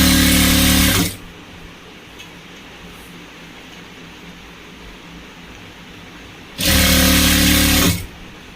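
A sewing machine stitches a rolled edge onto a shawl in two loud, close whirring bursts, each about a second long, separated by a long quiet gap.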